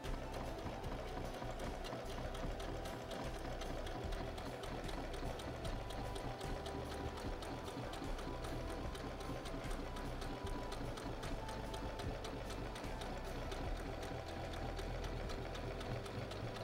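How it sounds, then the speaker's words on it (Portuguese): A sewing machine stitches fabric for a Santa Claus mug craft, humming steadily and faintly at low level throughout with no pauses. "Aí a gente vai na máquina e costura."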